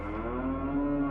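A cow mooing sound effect used for a monstrous heifer, one long, loud, close moo with a steady, droning tone and no speech over it.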